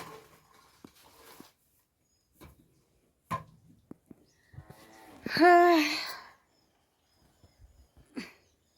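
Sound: water buffalo mooing

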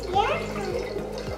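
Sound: dry ice bubbling in water

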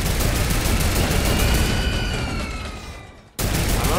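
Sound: turret gunfire in Fortnite video game

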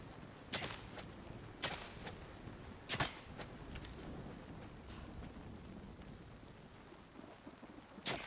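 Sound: rain and thunder in Nightingale video game

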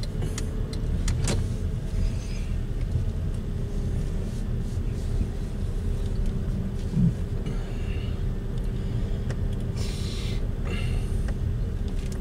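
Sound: car pulling onto the road

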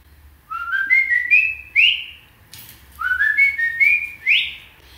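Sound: whistling imitating a parrot's call

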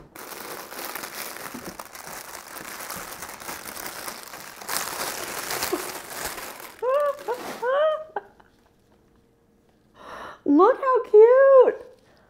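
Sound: crinkling packaging of a realistic toy cat being opened

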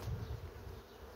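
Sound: honey bees arriving at a swarm

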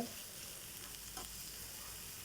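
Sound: frying fenugreek leaves in a pan

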